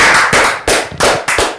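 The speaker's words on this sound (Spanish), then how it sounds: "Esperamos con los aplausos haber reventado todos los parlantes" An audience applauds, the clapping blasting loud and distorted through speakers in several harsh surging bursts separated by brief dips.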